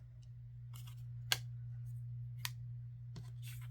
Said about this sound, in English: And I'm cutting it on an angle.